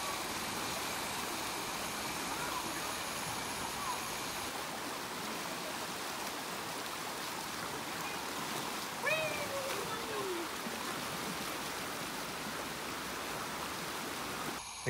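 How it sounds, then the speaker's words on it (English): Water rushing down natural rock water chutes at Ohiopyle, Pennsylvania, a steady, even roar heard from some distance that holds unbroken throughout, with a brief faint voice partway through. "You can even go down these naturally made water chutes."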